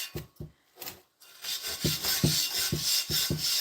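A pumice stone scrubs rust off the edge of a neglected cast iron pan, making rhythmic back-and-forth rasping strokes. A few separate rubs come first, then a faster continuous scrubbing run, close and fairly loud.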